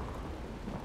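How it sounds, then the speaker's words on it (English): Thunder from a nearby lightning strike in a video game while exploring Caer Bronach, a dense continuous rumble with rain-like hiss, loud and steady for a short moment with no talk. "Ooh, lightning close by."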